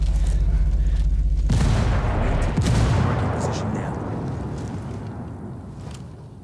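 A frag grenade goes off with a sudden heavy boom in a video game firefight after a low droning stretch, then a long rumbling decay with scattered crackles as it fades.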